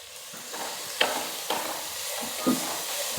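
Crushed ginger and garlic fry in a chicken curry pan, a steady sizzle broken by a few sharp spoon knocks and stirring scrapes against the metal.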